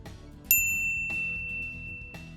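A single bright notification bell ding strikes crisply and rings out with a long shimmering tail, over faint soft background music with light repeated pulses.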